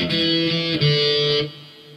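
Closing notes of a song intro on electric guitar with a distorted tone, a few sustained chords ringing together before cutting off and fading, played alone with no talking.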